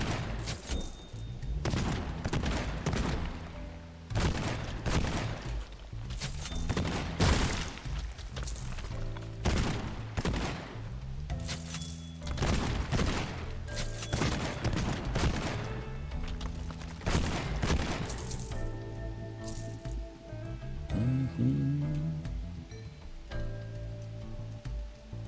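Gunfire from a gun in Borderlands 2, with rapid, loud bursts of shots repeating in quick clusters for the whole stretch, dense and close with brief gaps between volleys.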